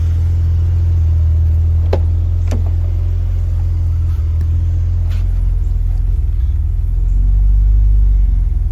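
BMW E46 engine idling after vacuum leak repairs, a steady close low rumble with a slightly hunting idle and a few faint sputtering ticks.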